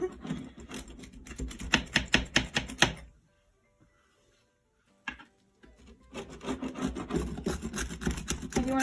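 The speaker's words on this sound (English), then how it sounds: "grab our pizza wheel or a sharp knife and go ahead and cut it while it's still hot" A pizza wheel rolls through a hot pizza with a raspy, crunchy scraping in rapid strokes, then a few seconds of near silence, then another run of crusty cutting.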